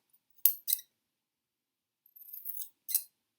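Scissors cutting wool snip sharply twice, pause, then make a longer rustling cut and a final crisp snip, close and quiet against silence.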